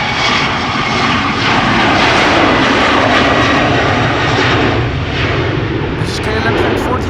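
A KLM Embraer 190 airliner roars loudly and continuously at Schiphol Airport, its jet engines producing a steady, heavy rumble with a faint high whine near the end.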